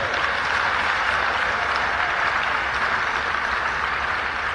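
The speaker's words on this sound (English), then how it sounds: "So I'd like you to give a big round of applause up front for our rapporteurs." A conference audience applauds the event rapporteurs with a steady, dense wash of clapping that holds at an even level throughout without pause.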